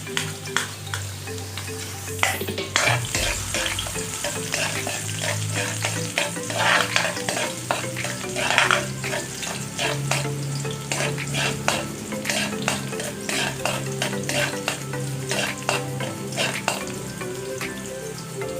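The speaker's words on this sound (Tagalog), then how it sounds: "Ngayon, mag-start na tayo mag-gisa. Ilagay ko itong bawang." Garlic sizzles loudly in hot oil in a pan for pancit bihon, with steady frying crackle and repeated scraping stirs throughout, no talking.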